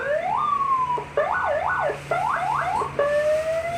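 A 100-watt siren horn speaker plays a long rising and falling wail, then rapid repeated yelping sweeps, then a steady climbing tone, loud and close with no voices.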